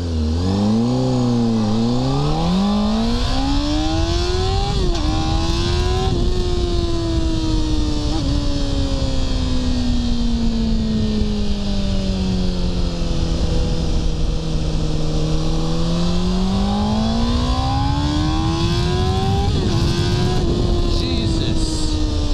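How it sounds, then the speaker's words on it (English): Honda CBR600RR motorcycle engine revving hard under load, its pitch dipping and then climbing steadily through sustained high-rpm pulls, loud and close throughout. "The bike is so much faster on the top end."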